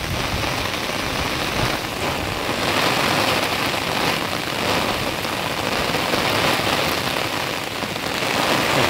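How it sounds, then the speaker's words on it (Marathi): Heavy rain pouring down outdoors, a dense, loud, unbroken hiss of drops drumming on surfaces with slight surges in intensity, with no voices over it. "बापरे, पाऊस खूप आलाय"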